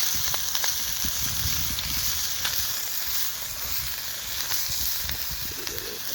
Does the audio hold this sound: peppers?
yes